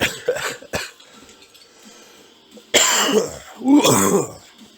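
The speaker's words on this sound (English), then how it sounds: "it's just a normal cough." Two loud, harsh coughs close up, each a raspy burst, following some quieter throat noises and breathing earlier on.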